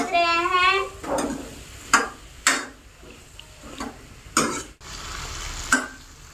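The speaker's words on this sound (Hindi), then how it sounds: "यहीं पे डाल देते हैं सब्जी और आलू को और अच्छे से चला देते हैं।" Vegetables and potatoes stirred into a frying masala in a pot, a series of distinct scraping strokes of a spoon against the pan over a faint sizzle, with a brief whistle-like tone at the start.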